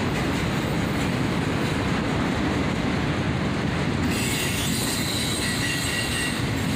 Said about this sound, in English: Double AC44CWs, both in the old YN2 paint scheme, and both of them really clean for old YN2 locomotives.